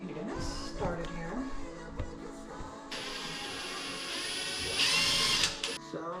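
A power drill drives small number 4 screws into IKEA cabinets, with whirring motor runs that rise into a sustained high whine, close and loud.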